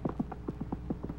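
Horse hooves clip-clop in a steady, quick rhythm, about a dozen even hoofbeats over a low constant background hum.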